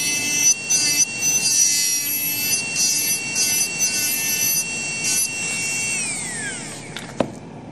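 A denture premolar tooth being ground down with a high-pitched rotary dental handpiece, whining steadily for several seconds before spinning down, then a small click.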